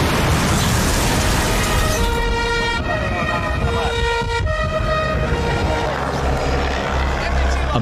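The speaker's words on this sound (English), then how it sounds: "A massive explosion ripped open the highway." A massive explosion from a half-ton bomb detonated under a highway, a loud sustained roar mixed with wailing siren-like tones and dramatic sound effects throughout.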